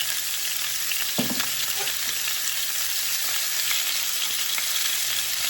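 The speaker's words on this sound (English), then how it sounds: "let that side sear" Boneless pork chops sear in a hot pan with a loud, steady, continuous sizzle close by. A couple of faint scrapes or clinks rise from it briefly, and no one speaks.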